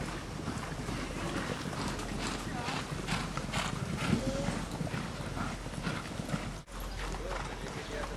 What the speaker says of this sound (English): Most horses move willingly on paths made just for them